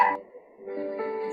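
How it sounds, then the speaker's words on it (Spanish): Small dog barking and yipping somewhere in the room during a live broadcast, a short burst of barks followed by sustained whining yelps at moderate loudness. "hay un perrito que está toreando y ladrando."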